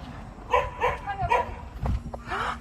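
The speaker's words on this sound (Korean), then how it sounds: "강아지가 지금 화가 났어" An angry dog lets out a series of short, sharp barks and yips at a moderate distance, in quick irregular bursts, at a forest shopping spot.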